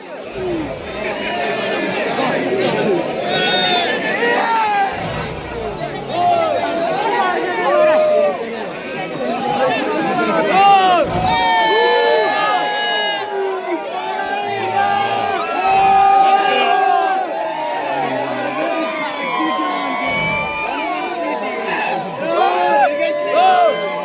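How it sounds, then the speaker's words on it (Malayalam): A large crowd of locals gathers around a captured man-eating tiger, with loud, continuous hubbub, overlapping shouts and whoops throughout. Voices talk and call out over one another. "പ്രദേശത്ത് വലിയ ജനക്കൂട്ടമാണ് എത്തിയിട്ടുള്ളത്"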